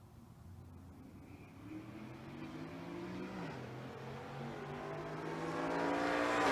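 A Pro-Charged GTO and a Silverado drag race side by side at a big-money shootout, their engines starting distant and building into a steadily louder, rising roar.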